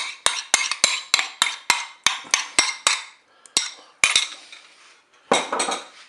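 A spoon stirs mustard and crème fraîche into spaghetti inside a Cookeo pot: a rapid run of sharp metallic clinks against the pot's bowl, loud and close, slowing into a few scattered knocks and a final scraping swirl.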